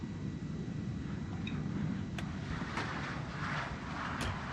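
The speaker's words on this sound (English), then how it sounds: "I think you get the noise of the planes" Steady low roar of aircraft somewhere in the distance, a constant broadband rumble with a few faint clicks on top and no talking.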